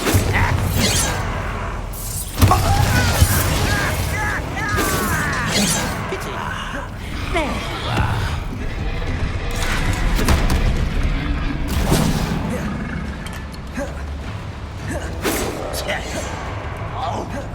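Bombarda spell explosions in the video game Hogwarts Legacy boom and crack repeatedly amid busy combat noise, sharp impacts at irregular intervals over a steady low rumble, with a voice casting spells throughout.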